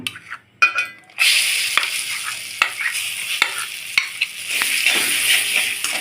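Chana dal paste sizzles and fries in ghee in a wok, with close, steady crackling broken by several sharp scrapes and taps of a spatula stirring it.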